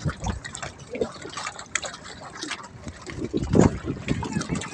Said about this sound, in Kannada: ನೀರಿನ ಅಲೆ.